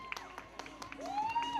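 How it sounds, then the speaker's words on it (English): Spectators at a marathon festival finish line clap and cheer for a runner crossing, with scattered sharp claps over a soft crowd murmur and a rising whoop near the end, heard fairly faintly. "Let's give her a round of applause"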